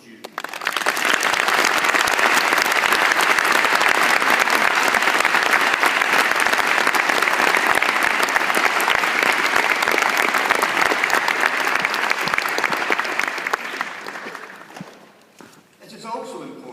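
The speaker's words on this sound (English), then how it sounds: "I ask you, our new graduates, to join me in applauding all those who supported you" Sustained loud applause from the audience at a University of Liverpool health sciences graduation ceremony, a dense roar of many hands that holds steady for over ten seconds, then thins and fades out near the end.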